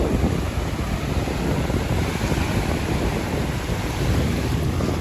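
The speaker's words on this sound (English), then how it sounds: "I might go and check out this ocean because it looks so pretty" Ocean surf rolling onto a beach in Punta Cana, Dominican Republic: a steady, loud wash of breaking waves mixed with gusty wind buffeting the microphone, with no voices.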